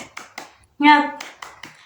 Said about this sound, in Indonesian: kita ice breaking tepuk semangat terlebih dahulu ya.